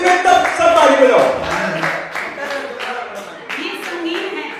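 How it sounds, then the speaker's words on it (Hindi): An audience at a poetry recital claps in a scattered burst of applause that tapers off as the clapping continues under the reciter's voice. "सब ताली बजाओ"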